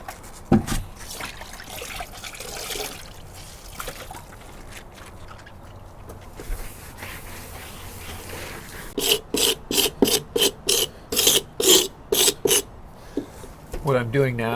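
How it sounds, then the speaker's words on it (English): Rough scraping rasps across a painted wood porch floor as loose, flaking paint is removed, slow and uneven at first, then a run of quick, loud strokes in steady rhythm. "What I'm doing now is getting rid of any loose and flaking paint."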